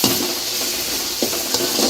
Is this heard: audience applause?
no